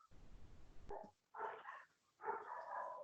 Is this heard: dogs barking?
yes